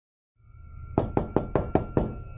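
Six evenly spaced, sharp knocks on a door in the game Identity V, loud and close over a steady background hum, with no talk.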